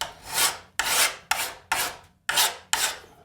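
A file rasps across a scraper blade in six firm, evenly spaced strokes, each a loud gritty scrape that fades before the next, with no talk.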